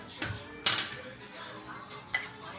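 Macaroni salad ingredients being stirred in a bowl, with a few sharp clinks of a utensil against the dish over a quiet kitchen background.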